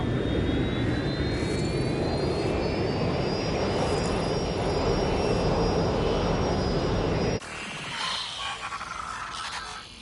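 A jet airliner's engines in the PlayStation 4 game Watch Dogs Legion make a loud, steady roar with a rising whine for about seven seconds, then cut abruptly to a quieter rumble, with no voices.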